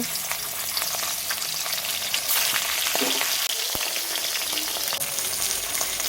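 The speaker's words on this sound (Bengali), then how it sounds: "একটা কড়াই গরম করে তাতে সামান্য তেল দিয়ে ইলিশ মাছের মাথা দুটোকে ভেজে নেব" Two hilsa fish heads frying in a little oil in a hot wok, giving a dense, continuous close-up sizzle with scattered pops and light crackles throughout and no voices.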